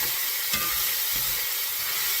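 Onions and garlic browning in a pan on a stovetop give off a steady, close sizzle and hiss, with a brief clatter of stirring partway through and no talking.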